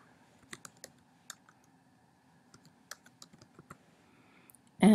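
Sparse, light clicks from a computer keyboard come in small irregular bursts, close but faint, before a sudden loud thump at the very end.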